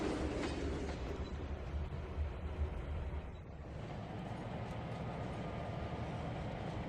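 A Penn Central train rolls past in the Trainz 2022 railroad simulator on the Tidewater route, a steady mid-distance rumble of wheels and engine that holds evenly throughout with no voices over it.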